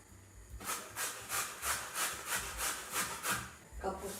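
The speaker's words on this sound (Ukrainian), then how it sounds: "а зараз натру моркву." Rhythmic rasping strokes of a carrot rubbed against a grater, about a dozen even passes, close and steady, with no talking.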